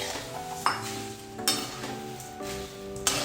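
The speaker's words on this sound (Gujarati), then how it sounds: "હવે એની અંદર ધાણી એડ કરી દઈશું, તરત જ એડ કરી દેવાની છે અને સાથે મમરા એડ કરી દઈશું" Puffed sorghum and puffed rice tumble into a spice mix and get stirred for a chevdo snack, making a steady rustling sizzle with a few sharp clinks of a utensil against the pan, close and continuous, with no voices.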